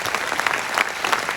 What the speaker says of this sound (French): on va les applaudir très très fort